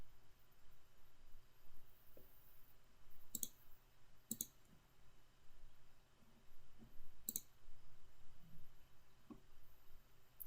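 Several sharp mouse clicks, spaced irregularly over a faint steady background hiss, made while testing an API call in Power Automate that invokes an HTTP request to Dataverse.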